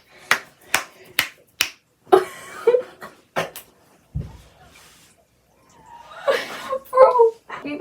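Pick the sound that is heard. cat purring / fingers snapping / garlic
fingers snapping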